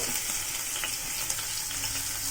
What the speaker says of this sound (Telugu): ఇప్పుడు ఇందులో సన్నగా తరిగి పెట్టుకున్న వెల్లుల్లి ముక్కలు,